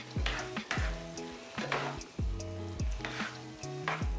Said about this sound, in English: I generally like to add a bit of pecorino into the pasta as well. And then we'll just give it a good stir.